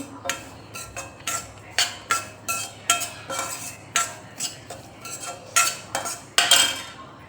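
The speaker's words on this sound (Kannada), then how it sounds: "ಮನೆಯಾಗಿನ ತುಪ್ಪ ಹಾಕಿ ಶೀರ ಮಾಡಕತ್ತೀನಿ ಈಗ ಇದನ್ನ ಚೆಂದಾಗಿ ಫ್ರೈ ಮಾಡ್ಕೊತೀನಿ" A utensil scrapes and clinks against a kadai over and over while sheera fries in homemade ghee, giving a steady rhythm of sharp metallic strokes about twice a second. The stirring is close and clear, with no talk.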